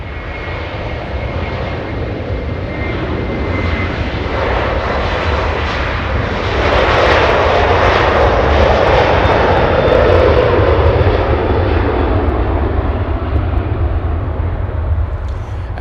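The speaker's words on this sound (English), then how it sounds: "Iberia, incredibly sounding departure by Iberia" An Iberia Airbus A330 jet departs Los Angeles International Airport, its engines a broad, steady roar that builds and grows louder midway before holding strong.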